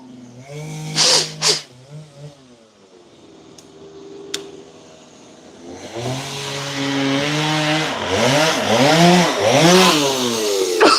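A chainsaw carving the finishing details on a wooden bear sculpture: loud revving bursts, then a quieter idle, then sustained cutting with the engine pitch rising and falling repeatedly, close by and without speech.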